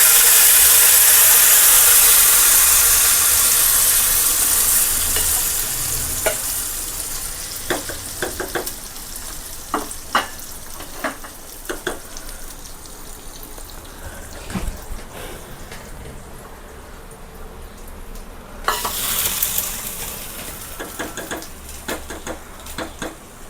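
Hot tempering of fried mustard seeds is poured into a pineapple and pumpkin pachadi. It gives a loud, bright sizzle that fades over several seconds, followed by scattered clinks of a utensil against the pot.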